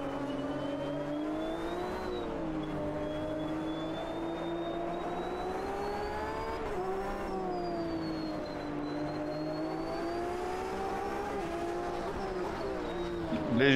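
A Porsche GTE race car engine in the Automobilista 2 sim at the Sugo circuit drones steadily, rising and falling in pitch through gear changes and braking, loud and continuous with a faint high whine above it.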